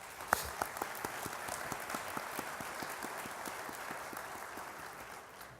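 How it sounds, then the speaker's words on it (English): Audience at a violence prevention summit giving a round of applause: steady, moderately distant clapping from a crowd, even in rhythm and sustained throughout, heard alone without talking. "can we please give them a round of applause?"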